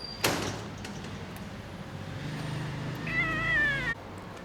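A blind kitten with swollen-shut eyes gives a short, thin, rising meow near the end, heard close over a quiet room with a sharp knock or door sound at the start.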